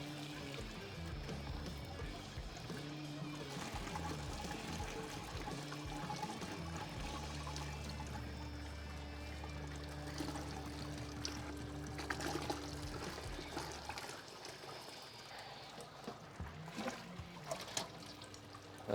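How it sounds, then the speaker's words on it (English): Sparge water poured over the grain bed in a Brewzilla Gen 4 all-in-one brewing system, a faint continuous trickle and splash running steadily under low hum, tapering near the end. "just grabbing our sparge water and pouring it over the top"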